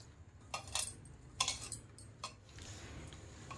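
Spices and salt are stirred into chopped capsicum in a bowl, giving a few quiet clinking, scraping spoon strokes in short bursts, close by with no talking.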